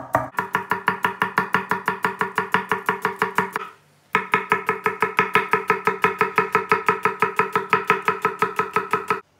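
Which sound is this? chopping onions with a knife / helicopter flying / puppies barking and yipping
chopping onions with a knife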